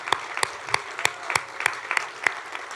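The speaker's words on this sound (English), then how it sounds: "let's have one more big round of applause for all of our awardees tonight." Banquet audience at a college senior awards dinner clapping for the awardees, a fairly faint patter of applause with a few sharp, evenly spaced claps standing out.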